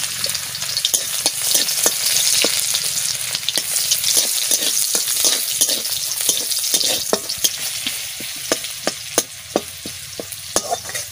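Garlic fries in mustard oil, giving a steady, close sizzle with a spatula tapping and scraping the pan at a quick, uneven rhythm throughout.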